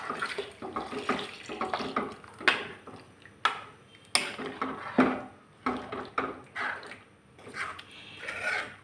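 Buttermilk poured into a mango pulissery curry and stirred, a soft liquid splash and pour followed by scattered spoon scrapes and knocks against the pot, close and fairly quiet.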